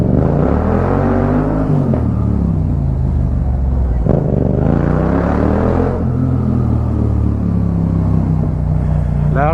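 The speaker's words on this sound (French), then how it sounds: "c'est sûr qu'avec mon pot, je réveille pas mal de monde" A Volvo car with a loud aftermarket exhaust revs up and down repeatedly on a street, its deep booming drone rising and falling in pitch, close and continuous throughout.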